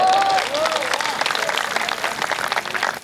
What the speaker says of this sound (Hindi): तालियां अब भी कम रह गई हैं, अगली बात पे तालियां थोड़ी और बड़ी कर दीजिएगा।